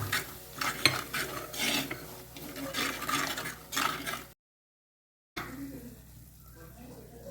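Kashmiri chili powder is stirred into a fish curry in a pan, with a utensil scraping and clinking against the metal over a faint sizzle, then a moment of silence before soft stirring resumes; a voice talks over it.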